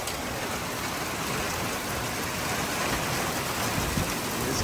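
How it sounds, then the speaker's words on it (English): Steady rain falling outdoors at Sam Rayburn in Texas, a continuous dense patter close by and alone, with no voices. "Love the sound of rain though."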